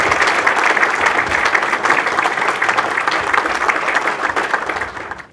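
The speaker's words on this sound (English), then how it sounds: "I would request all of us to present him a standing ovation if we can do that" A standing ovation for General Zubair Mahmood Hayat, Chairman of the Joint Chiefs of Staff Committee, at a UK–Pakistan relations event: loud, sustained clapping from a large crowd that tapers off at the very end.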